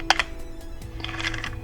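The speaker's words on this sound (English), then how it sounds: "That clicking is the sound of the film coming off of the take-up spool." Film rewinding inside a Miranda Sensorex camera, the film clicking as it comes off the take-up spool. A few quick, close mechanical clicks sit over a low, steady hum, with a softer burst of clicking near the end.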